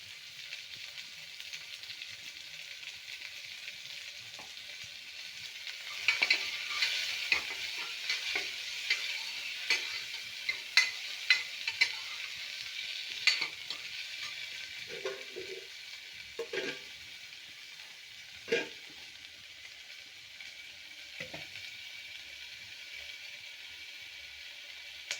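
Food frying in a pan with asafoetida (hing) before raw black-eyed peas go in: a steady soft sizzle with scattered crackles and a few spoon taps, faint and close, with no voices.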